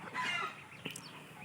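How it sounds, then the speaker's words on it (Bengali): Chickens in a backyard coop give a brief, faint cluck and squawk, heard alone at a moderate distance. "আর এই সব মুরগি আছে এখন এই পাশে।"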